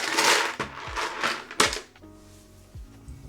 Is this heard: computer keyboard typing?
yes